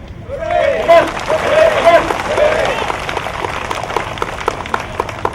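A school event audience at a campus gathering bursts into loud applause and cheering, a dense wash of claps with voices rising over it, fading into scattered individual claps.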